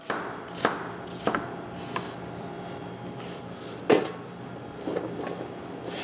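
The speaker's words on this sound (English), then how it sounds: "We're gonna coarsely chop up just a simple white onion that we've removed the skin of." A knife coarsely chopping a peeled white onion on a board: a handful of separate sharp chops spaced unevenly over several seconds, close and fairly quiet, with no talk.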